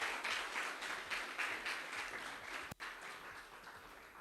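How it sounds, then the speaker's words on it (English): An audience at an IT and creative industry event applauds panelists with dense, sustained clapping that fills the room, and a brief thump sounds partway through. "let's give a round of applause for those wonderful panelists"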